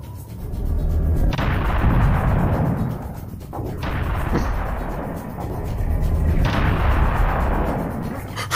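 Repeated loud cannon blasts from the shooter game Serious Sam: The First Encounter, three broad booming bursts with whooshing decay, each lasting a couple of seconds, filling the clip with no talk.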